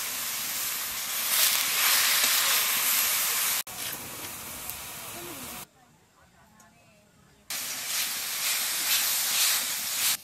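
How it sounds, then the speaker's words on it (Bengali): Fresh winter greens fry in a pan with salt and turmeric, giving a steady broad hiss that drops away for a few seconds and then returns just as loud. "শাক একটু বাজিয়ে নেব"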